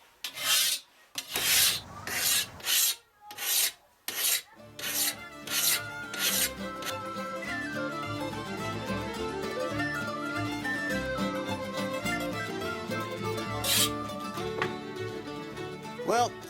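A machete blade is sharpened with a hand file. Loud, rhythmic rasping strokes with short pauses between them come first, then give way to a steadier ringing, tonal background.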